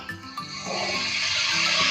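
Water poured into a pot of browned beef korma with cardamom and cloves, a rising broad rush of liquid that grows steadily louder over a couple of seconds after faint clinks.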